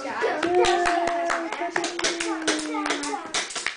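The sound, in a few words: child clapping hands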